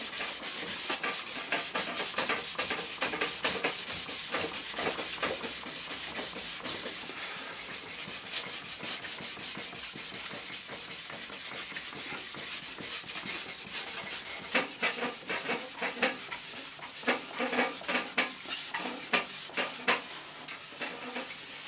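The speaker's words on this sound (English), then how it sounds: "Now I'm switching to the 1200 grade wet and dry paper. I'm just going to wet it in some clean water" Perspex being wet-sanded by hand with 1200 grade wet and dry paper: a continuous hissing rub of repeated strokes, close and steady, growing slightly louder and more rhythmic toward the end.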